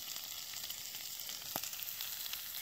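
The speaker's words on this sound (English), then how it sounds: "We have some potatoes frying up." Potatoes and bacon frying in a pan over a campsite meal by a lake, giving a steady, quiet crackling sizzle with a few brief pops, heard alone without talk.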